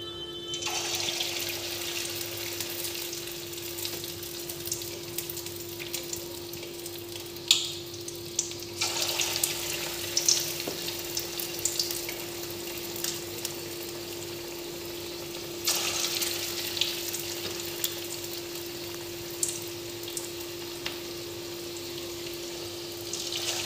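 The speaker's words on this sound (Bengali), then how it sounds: "একসাথে সব বল ভাজবো না, আমি 6টা দিয়ে ভাজছি।" Chicken Manchurian balls fry six at a time in hot oil in a kadai over low heat, making a steady soft sizzle and bubbling that runs throughout, with occasional clinks and brief louder crackles.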